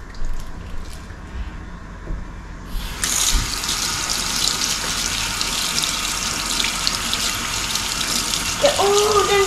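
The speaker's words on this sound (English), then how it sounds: "wash your hands." Tap water gushes into a sink as hands are washed beneath the stream, a steady, close splashing flow that starts abruptly after a quiet moment and runs continuously to the end.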